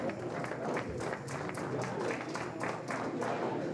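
Audience members clap at a sports hall of fame induction ceremony, a moderate, uneven patter of hands that continues steadily at medium distance with some crowd murmur.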